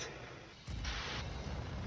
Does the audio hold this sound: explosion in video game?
yes